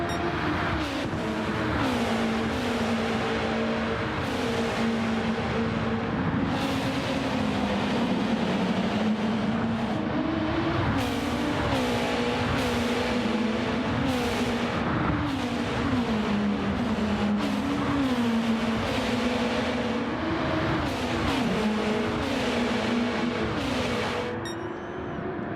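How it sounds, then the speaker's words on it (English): Several racing car engines in a video game whine and shift pitch continuously, overlapping into a dense, steady roar with no talking. "These cars sound absolutely fantastic."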